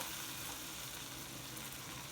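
Mustard seeds, cumin and a sprig of curry leaves sizzle in hot oil for a tempering, giving a steady, dense crackle and hiss with no talk.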